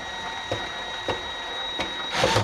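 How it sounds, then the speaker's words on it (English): Size T screws being driven into a wooden toy kitchen, giving a few soft, separated creaks and scrapes at regular intervals, close and quiet, and ending in a brief louder burst of friction. "now I'm going to put these two, once again, size T screws in here and screw those in."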